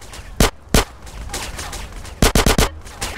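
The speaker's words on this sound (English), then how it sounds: "That was a sniper bullet!" Sniper rifle fire in GTA San Andreas: two sharp, loud shots, then a rapid cluster of four more cracks and a softer one, over a murmur of background game noise.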